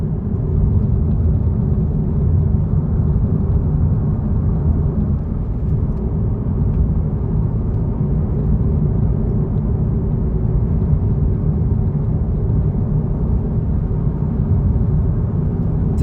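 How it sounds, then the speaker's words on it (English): Road traffic stalled in a gridlocked traffic jam in Trinidad: a continuous, loud low rumble of idling engines that stays steady throughout with no distinct passes and no speech. "This is what it is called traffic jam."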